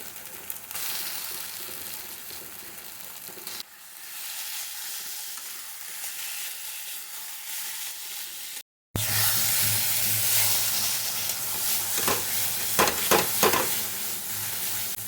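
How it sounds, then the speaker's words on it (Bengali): Potatoes fry in a pan for an evening snack, a steady close sizzle that cuts out for a moment and then returns louder and fuller, with stirring scrapes and crackles over the hiss. "ভালো করে একটু ভেজে নেব এরপরে এগুলো হয়ে গেছে এটা আমি আলুগুলো দিয়ে দেবো"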